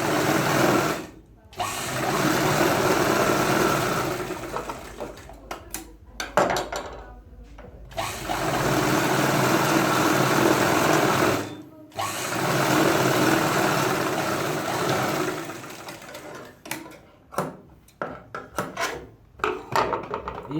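A sewing machine stitches a Punjabi pajama seam in long, loud, continuous runs with brief pauses between them. Toward the end it breaks into shorter stop-start bursts, and a voice is heard now and then.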